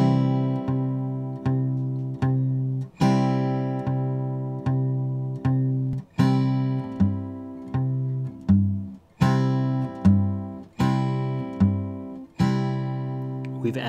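Acoustic guitar in a Travis-picking exercise, with a bass note or chord struck at the start of each measure and left to ring, making an even, steady pulse of plucked notes, clear and alone.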